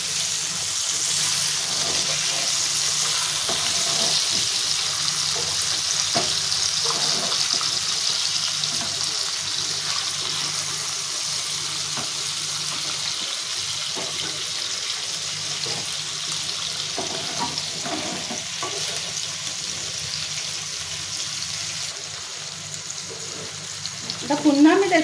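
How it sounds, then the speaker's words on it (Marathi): Fish frying in a pan, a steady bright sizzle running throughout at moderate level, with faint clatter as the pieces are flipped near the end. "झाकण काढून घेते आणि मच्छी पलटी करून घेते मी"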